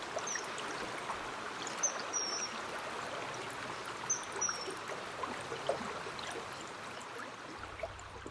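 Kiyotaki River in Takao Valley, Tokyo, flowing steadily as a soft, continuous rushing murmur, heard alone at moderate distance with no voices.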